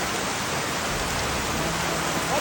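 Heavy rain pouring down in a residential area, a continuous dense hiss of downpour, loud and close, unbroken for the whole stretch with no voices.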